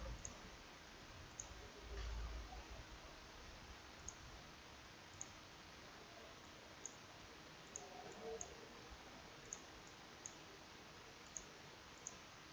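Sparse, faint clicks spaced a second or so apart, like a computer mouse being clicked over a quiet background hiss.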